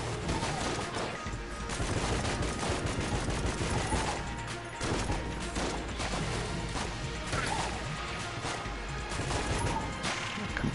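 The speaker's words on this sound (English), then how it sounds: "Compressed air tank is fun." A compressed air tank gun in the video game Enter the Gungeon fires rapid, dense volleys, with loud bursts and crashes running almost without pause, and no talking.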